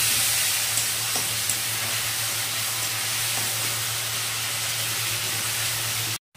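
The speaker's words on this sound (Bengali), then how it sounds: "আদা আর লঙ্কা বাটা আমি বেটে রেখেছিলাম পাটাতে, এটাকে কষিয়ে নিচ্ছি।" Ground ginger and chili paste sizzling steadily in a pan while being fried for basanti polau, a constant loud hiss with occasional small pops that cuts off abruptly at the end.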